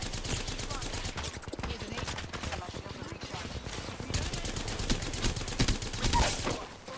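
Rapid gunfire in an Apex Legends fight, fast crackling volleys repeating over several seconds at moderate loudness with a busy low rumble beneath, and a player voice mixed in.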